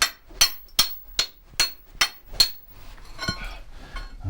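Hammer whacking rock to chip out azurite and malachite in the desert, six sharp metallic clinks at an even half-second rhythm, close and loud, followed by softer scraping and a single duller knock.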